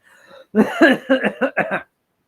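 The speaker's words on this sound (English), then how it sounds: "I'm going to have a coughing fit" A short burst of harsh, rapid coughs, four or five in quick succession, close and loud, after a faint murmur.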